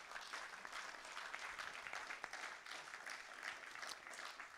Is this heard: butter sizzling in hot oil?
no